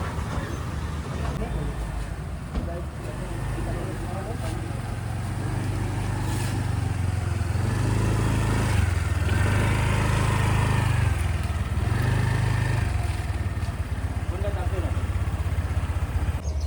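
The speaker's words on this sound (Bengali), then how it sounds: "ওই বাইকটা আমি ভাড়া করছি, কালকে পার্কিংয়ে রাখছিলাম। এখন এটা নিয়ে বের হবো।" A rented green motorbike idles steadily before setting off from a parking area on Koh Samui, a loud low engine drone running throughout with other faint street sounds.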